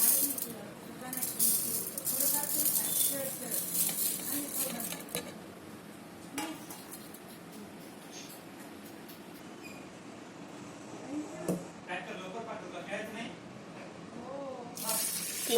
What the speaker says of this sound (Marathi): नंतर त्या डाळीला कुकरमध्ये टाकून चांगल्या प्रकारे धुवून घ्या.